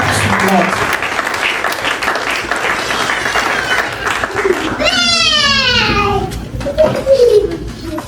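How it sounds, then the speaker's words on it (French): Church congregation clapping for the Lord during a French and English sermon, steady crowd applause running throughout with children's voices and chatter mixed in, plus a brief high sung or shouted phrase midway. "And let's clap to the Lord."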